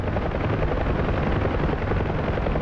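A Little Bird helicopter with a fully articulated rotor, simulated in the DCS flight game, drones in a dense, loud, continuous rotor and engine roar without pause.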